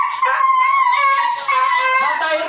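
A recently neutered dog whimpers close by in a continuous high, wavering whine that rises and falls over a few seconds.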